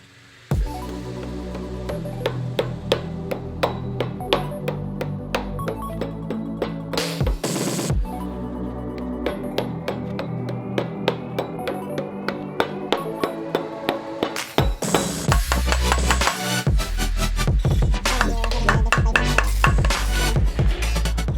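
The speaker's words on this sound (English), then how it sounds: "Get the hammer." A hammer taps timing components on a Nissan RB25DET engine during a 240SX build, sounding as many sharp, closely spaced metallic strikes that continue throughout over steady background music.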